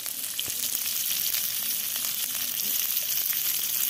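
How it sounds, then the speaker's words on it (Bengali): Bitter gourd pieces frying in a pan with a little salt, a steady close hiss of sizzling oil running throughout, with faint scraping touches now and then. "এবার উচ্ছেটা ভেজে নিই।"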